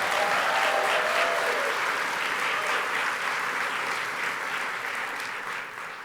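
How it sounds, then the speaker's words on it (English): An audience at an Arkansas alumni awards celebration applauds for Howard Brill, a law professor of legal ethics. The clapping is sustained and dense, full-bodied from the start, then slowly fades toward the end. "Go ahead, clap for Howard"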